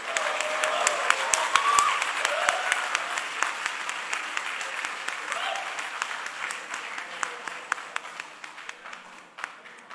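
An audience at a Lunar New Year community celebration in New South Wales, Australia, applauds a top-scoring student; sustained clapping with sharp individual claps standing out, slowly thinning toward the end, with some voices underneath.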